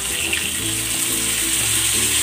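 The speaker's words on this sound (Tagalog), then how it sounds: "Para tuluyang maluto yung ating chicken, ilalagay ko dito yung pinagbabaran." Liquid chicken marinade poured into a hot kawali for steam-roasting chicken, a loud steady rush of splashing and hissing close up, alone with no talking.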